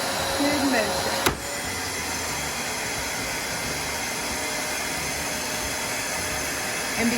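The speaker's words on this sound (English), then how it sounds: "I'm going to turn on my vacuum" A vacuum runs on a We R Memory Keepers mold press, a loud steady whooshing roar that holds throughout after a sharp click as it switches on.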